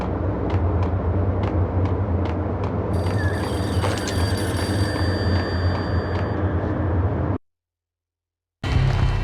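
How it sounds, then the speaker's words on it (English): A payphone rings in a repeated trill of short bursts over a steady low ambient rumble in the Max Payne video game, then cuts off into brief silence before the background returns. "The payphone started to ring."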